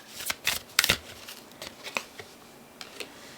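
Tarot cards are shuffled by hand, with quick riffling bursts and soft slaps close by, loudest early then thinning into a few lighter flicks, with no talk.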